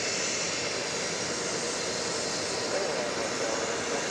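A Southwest Airlines jet in special livery taxis at Dallas Love Field, its engines a continuous, even hiss and rumble at moderate distance with no breaks.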